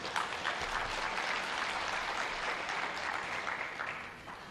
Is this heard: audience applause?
yes